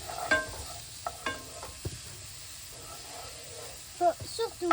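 Bolognese sauce sizzles faintly in a pan while a spatula scrapes and stirs it in scattered strokes, with a quiet hissing bed underneath and a few sharper clinks.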